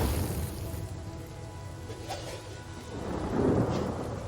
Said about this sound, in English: I know it's raining